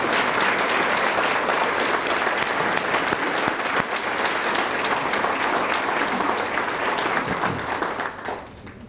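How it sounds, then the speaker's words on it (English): Sustained applause from a large crowd at a charity gala event, steady and dense throughout, tapering off at the very end. "give them a big round of applause"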